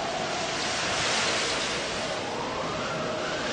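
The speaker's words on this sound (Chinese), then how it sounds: "突然海面发生强烈的暴风雨，船沉了，像山崖似的巨浪几乎要吞没他们" Storm waves at sea in a violent tempest, a continuous loud roar of surf and wind that swells briefly and never lets up.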